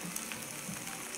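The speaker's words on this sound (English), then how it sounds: "We'll let the veggies saute for a little bit." Peppers, onions and other vegetables sautéing in an electric skillet give a soft, steady sizzle with faint crackles, close but quiet and with no voices.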